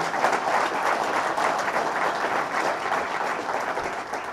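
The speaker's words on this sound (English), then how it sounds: "Let's give a big round of applause to Rowan" A large audience at an outdoor government announcement of downtown Rome projects in the Mohawk Valley claps steadily, a loud, dense and even wash of applause with no speech over it.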